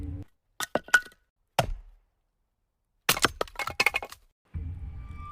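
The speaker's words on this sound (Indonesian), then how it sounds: "sedang membelah kayu dari arah dapur" Sharp cracks and splintering thunks come in short clusters with pauses between, like wood being split close by, ending in a low rumble.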